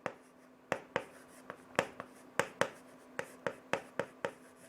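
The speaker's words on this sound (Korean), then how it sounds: "여기다 써볼게요." Chalk or marker taps and strokes on a classroom board, about a dozen sharp, close knocks in an irregular rhythm over faint background hum, with no talking.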